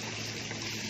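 Flavored broth pours steadily into a pot of pork menudo, a continuous close, even watery rush with no break for the full second.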